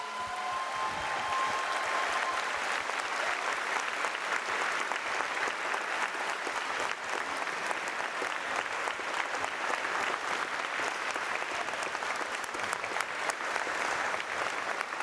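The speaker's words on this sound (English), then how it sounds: "just give a great round of applause to Mr. Torn for..." An audience at a science and tech festival lecture gives a long, sustained round of applause. Dense, even clapping fills the hall for about fifteen seconds.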